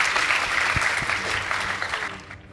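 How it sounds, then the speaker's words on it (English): A school audience applauds after a debate score is announced, the dense clapping filling the room steadily for a couple of seconds before thinning toward the end. "Please give them a round of applause"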